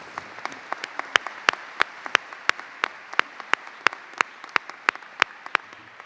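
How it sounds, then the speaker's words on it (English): Sparse, steady clapping with individual sharp claps at an even rhythm, like a small group applauding faculty and staff at a college commencement ceremony, fairly close and clear. "Let's please give our faculty and staff a round of applause today."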